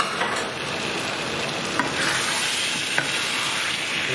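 Pre-cooked lamb stirred and scraped around a frying pan for a lamb and potato balti, giving a steady close sizzle with a couple of sharp scrapes of the utensil against the pan, and no voices.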